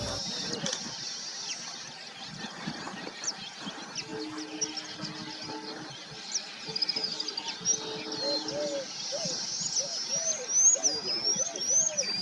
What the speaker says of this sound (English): next bird revived our energy, a beautiful male white-bellied minivet